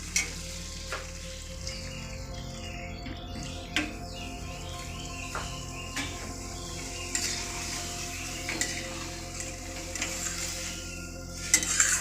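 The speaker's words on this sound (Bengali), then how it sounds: "এখন আমি সেই দুধটা যেটা রেখেছিলাম সেটা এর মধ্যে দিয়ে দিচ্ছি।" Egg korma simmering in spiced masala as milk is poured in and stirred, a steady soft sizzle with scattered spoon scrapes and clinks against the pot, no voices.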